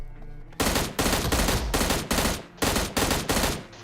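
Loud bursts of automatic gunfire in the battle royale video game PUBG, about eight rapid sprays in close succession with short gaps, preceded by a brief lower rumble, no voices.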